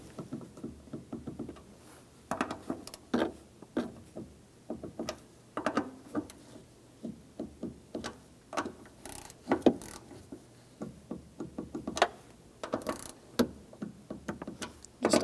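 Fuel pump module bolts on a 2003-2007 Honda Accord being torqued in a crisscross pattern, a series of quiet, irregular clicking ratchet and knocking taps spaced a second or so apart, close and faint.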